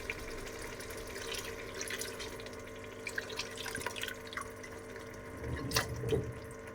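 Leftover spinach water is poured into a cooking pot of chicken palak, a soft continuous trickling and splashing that swells toward the end, close by and moderately quiet, with no speech over it.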